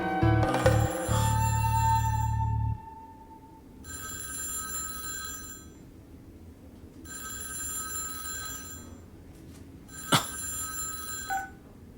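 A telephone rings in repeated bursts, three electronic trills separated by pauses, following a loud low thump at the start, with no talking.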